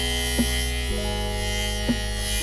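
A barber's hair clipper hums steadily while cutting hair clipper-over-comb, a continuous electric buzz with a few faint clicks as the blade meets the comb.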